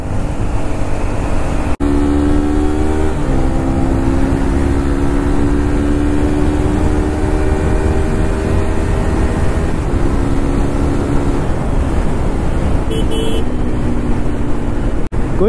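A Royal Enfield Continental GT650 twin ridden on a village road revs and climbs through several gears, its engine note rising, dropping at each shift and rising again, loud and close over constant wind rush.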